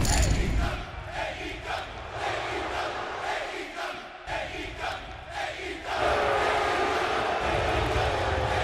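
A sold-out arena crowd at the MGM Grand Garden Arena in Las Vegas roars loudly before a wrestling event, a dense continuous wall of cheering and shouting that swells even louder near the end.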